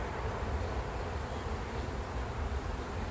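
Honeybees buzz around an open beehive during an inspection, a dense, steady hum of many insects close by, with no voices.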